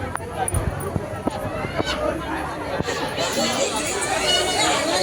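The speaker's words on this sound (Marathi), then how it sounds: "गर्दी होतेच आहे बघा किती गर्दी होते" Dense crowd chatter fills a busy Ganpati festival pandal, many voices overlapping steadily at close range, with occasional sharp knocks and clatters rising above the murmur.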